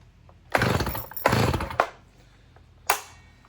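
Stihl chainsaw, similar to an MS-291, pulled into a few short bursts of running, each one dying away quickly, then a final brief rasp near the end. Loud and close, with no voices.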